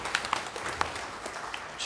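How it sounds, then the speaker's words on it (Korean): Church congregation applause during a worship service, a soft, steady spread of clapping from many hands with a few sharper claps, heard at a distance and fairly faint. "영광의 박수로 하나님께 드리겠습니다."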